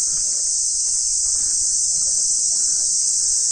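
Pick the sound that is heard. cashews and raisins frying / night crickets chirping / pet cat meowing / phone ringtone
night crickets chirping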